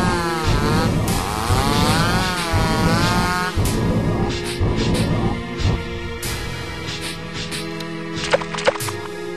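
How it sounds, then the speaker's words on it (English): A chainsaw from the horror video game Misao revs with a loud, buzzing drone whose pitch wavers and rises before settling into a steadier rumble mixed with other game sounds. "He's got the chainsaw, right?"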